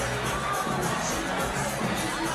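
A sellout crowd at a fight event cheers and shouts in a steady, dense wash of noise from a full venue, continuous with no clear breaks.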